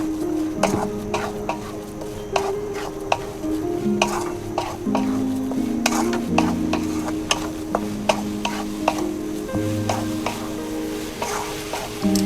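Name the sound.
stirring motichoor laddu mixture over the gas flame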